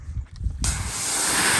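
After a brief muffled moment, a steady broad hissing spray of water starts abruptly, rinsing a car, and keeps running, loud and close.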